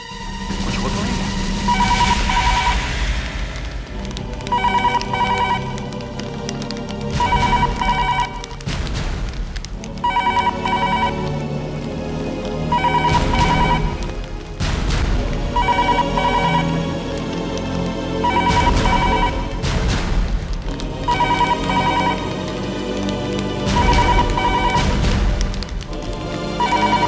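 Telephone ringing unanswered in a Hindi CID crime drama, a repeating ring pattern under continuous dramatic background music with booming accents throughout.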